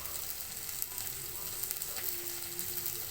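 Green chillies frying in hot oil for a carrot and urad dal curry, with a close, steady, loud sizzle and faint stirring clicks.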